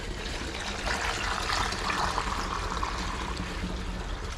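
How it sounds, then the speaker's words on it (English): Muddy water drains steadily out of the bottom of a Plymouth Fury car radiator, a continuous close pouring and trickling stream with no talk. "muddy water."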